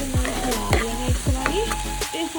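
Chopped onions crackle in hot oil for a langar-style mash dal tadka, a loud, close sizzle broken by several quick stirring scrapes of a ladle in the pan, with no voices.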